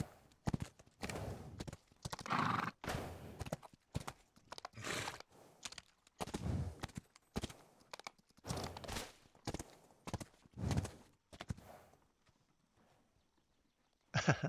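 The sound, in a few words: horse neighing and hooves in HEAT video game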